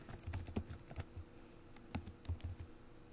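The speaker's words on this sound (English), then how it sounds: "So as soon as you start typing that," Computer keyboard being typed on in irregular, soft clicking taps, fairly quiet and close, with short pauses between bursts of keystrokes and no talk.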